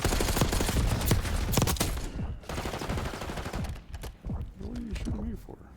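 Video game gunfire crackles in rapid, loud bursts over the first two seconds, then thins out into scattered shots while a voice murmurs faintly underneath.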